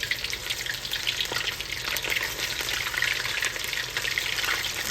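Fresh Gulf shrimp fry in hot grease in a pan, a loud, steady sizzle and crackle running throughout with no talking.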